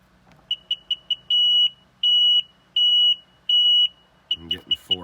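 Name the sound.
Seadoo GTI jet ski fast warning beeps when starting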